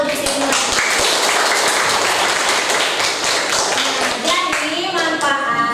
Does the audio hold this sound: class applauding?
yes